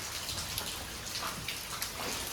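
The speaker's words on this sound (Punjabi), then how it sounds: "ਤੇ ਬੜਾ ਮੀਂਹ ਬੜਾ ਪੈਣ ਰਿਹਾ" Heavy rain falls in a dense, continuous patter with scattered sharper drops, loud and enveloping, with no voices.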